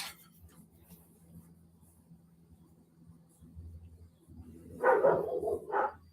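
Dogs burst into several quick barks near the end, after a stretch of quiet low rumble, loud and close against the background.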